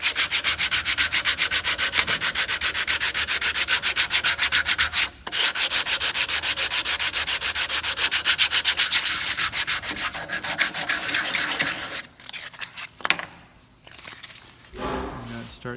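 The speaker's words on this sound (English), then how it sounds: "if you have a bulge right there, then you can use a sanding block and work it right there over" A sanding block with 100 grit paper worked over a bulge on a guitar neck, giving close, rhythmic back-and-forth rasping strokes that run steadily, pause briefly, then grow uneven and stop toward the end.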